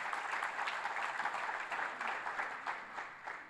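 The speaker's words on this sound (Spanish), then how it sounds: "¿Le puede dar un fuerte aplauso a Dios?" A church congregation applauds together for several seconds, a steady wash of clapping at moderate loudness with no voices over it.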